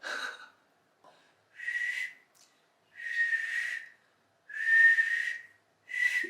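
A person with a gap between the front teeth after jaw expansion whistles a few short, breathy notes in separate bursts with silent gaps between them, close and fairly soft.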